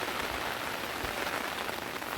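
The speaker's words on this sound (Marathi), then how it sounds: "पाऊस बघा किती पडतो" Rain pouring down on open grazing land in the Konkan countryside, a steady dense hiss of drops hitting surfaces, close and unbroken for a couple of seconds.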